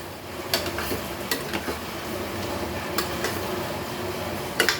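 A spoon stirs raw papaya stew in a pot, giving scattered scrapes and clinks against the metal over a soft, steady simmering hiss, with no voices.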